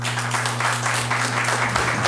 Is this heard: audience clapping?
yes